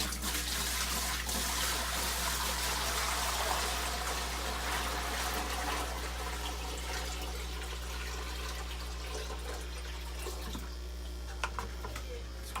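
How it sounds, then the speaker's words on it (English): Water pours from a bucket and splashes continuously into a tank, loud at first and gradually thinning out, with a low steady hum underneath. "And we're gonna pour the water in."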